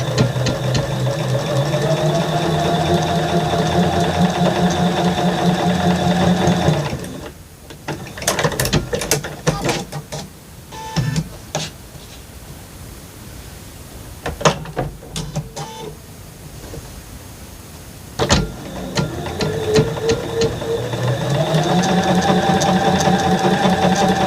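A sewing machine runs in two long stretches, stitching quarter-inch seams on quilt block fabric for flying geese units, whirring steadily near and loud with clicks and handling noises in the quieter middle.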